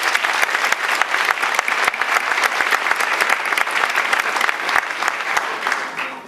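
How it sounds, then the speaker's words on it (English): An audience at a Haitian community honors event gives sustained, dense applause, many hands clapping steadily and loudly for several seconds with faint crowd murmur underneath. "Give him a round of applause."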